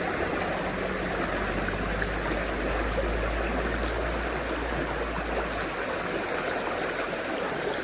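Gold concentrates being panned in a Connecticut river, with steady rushing and trickling stream water filling the whole stretch alone, close and fairly even throughout.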